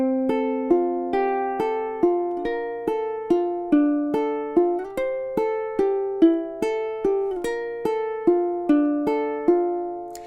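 Spanish-inspired triplet fingerpicking etude on ukulele, clean plucked notes ringing in a steady repeating rhythm across two measures, close and clear with no talking.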